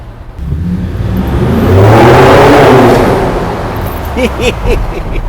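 A Ford Raptor pickup truck engine revs hard, rising to a loud roar and then falling back, with a rushing intake sound up close.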